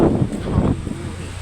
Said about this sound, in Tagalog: Mahangin nga lang. Mahangin siya.